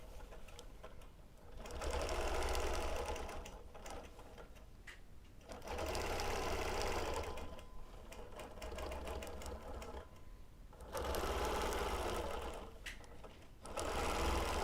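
A quilting machine doing free motion ruler work stitches in steady bursts of rapid needle chatter, each run lasting a few seconds and separated by short pauses, close and without talk.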